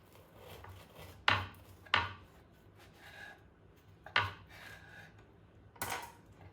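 A knife cuts through a golden, panini-pressed homemade French tacos. Four sharp, crisp crunches come at uneven intervals, close up, with faint rustling between them.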